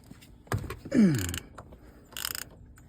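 A ratchet with a T50 Torx bit breaks loose a car steering wheel bolt: a few close mechanical clicks, a sharp creaking crack as the bolt gives, then a brief burst of rapid ratcheting.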